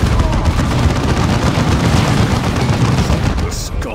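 Sustained gunfire rages in a Dawn of War II battle, dense overlapping shots and bursts forming a loud continuous barrage of combat noise throughout.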